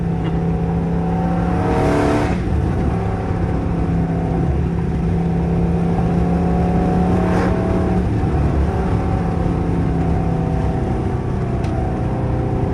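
Car engine droning loudly from inside the cabin during a drive, holding steady revs with brief shifts between gears and a couple of sharp spikes, no talk heard.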